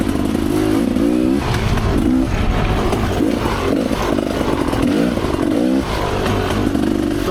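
A dirt bike motorcycle running along a tight, rocky trail full of turns, its engine buzzing continuously near the rider with rhythmic revving and clattering over rough ground.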